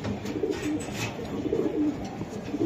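Pigeons, racer and Budapest birds at a market stall, coo softly and repeatedly while being handled for sale, a low steady cooing close by with little talk.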